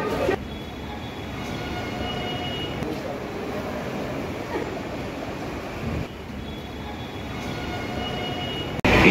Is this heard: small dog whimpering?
no